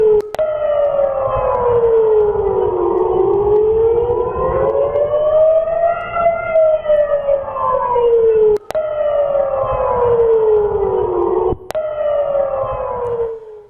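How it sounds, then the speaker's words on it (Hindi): Air raid sirens wail in Ashkelon, a loud, close siren rising and falling in slow sweeps, broken by two short sharp cuts, with no voices heard. "उसके बाद जो सायरन है वो एक के बाद एक बजे"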